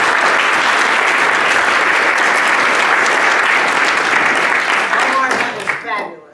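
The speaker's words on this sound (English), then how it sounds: "Round of applause for Omar." Audience applause for a guest speaker at a Rotary club meeting, dense and sustained at full strength, then thinning into scattered claps and a few voices as it fades out at the end.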